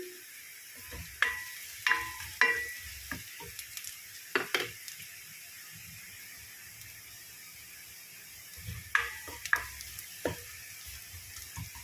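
Garlic sautés in oil in a pan, a soft steady sizzle with intermittent sharp clinks and scrapes of a utensil stirring against the pan, no talking.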